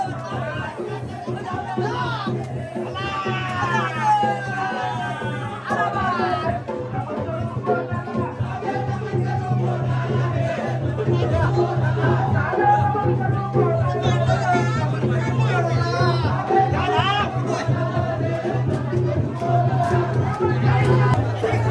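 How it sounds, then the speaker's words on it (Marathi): A festive crowd roars and chatters at the Bahiridev village fair in Vadhav, a dense, continuous hubbub of many voices with shouts rising over a steady low drone, close and loud throughout. "इकडं पण खूप जल्लोष चाललेला आहे"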